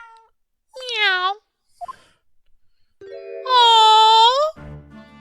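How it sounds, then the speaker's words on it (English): Cartoonish cat meows from The Great Ace Attorney Chronicles, two clear drawn-out mews separated by a pause, the second longer and louder, followed by a short low rumble at the end. "Oh look! It's that lovely little kitty cat!"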